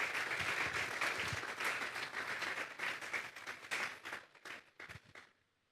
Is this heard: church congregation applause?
yes